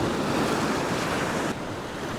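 Ocean waves break over coastal rocks, a loud broad roar and wash of whitewash that eases slightly toward the end, with no voices.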